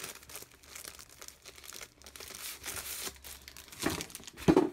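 Plastic wrapping crinkles and tears as a pack of cardstock is pulled open, close and fairly quiet with irregular rustling bursts and a sharper rip near the end.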